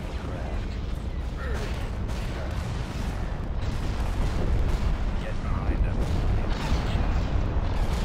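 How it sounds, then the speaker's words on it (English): Heavy artillery barrage pounding a space station in a Star Wars game, a dense, continuous roar of overlapping booms and blasts that builds slightly louder toward the end, with a voice talking over it. "that station's just getting ripped to shreds by all that artillery"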